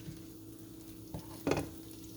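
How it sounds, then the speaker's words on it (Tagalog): Onion frying in hot oil in a pan for pork chops, a soft steady sizzle with a stir and a louder scrape of the utensil near the end. "just get the oil, put the onion, cook the onion"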